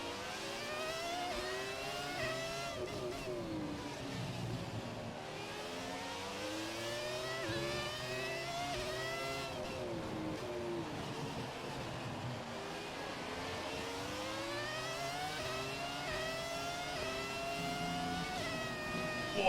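A Formula 1 race car in the F1 2017 video game screams through repeated rising and falling engine revs as it accelerates and brakes through corners, loud and continuous with no talk over it.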